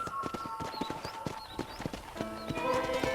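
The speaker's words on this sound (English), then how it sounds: "let's see if you can still ride a horse" Horse hooves clip-clop in a steady, brisk rhythm in the Western video game Red Dead Redemption, touring a ranch, with a faint whinny and light background game music underneath.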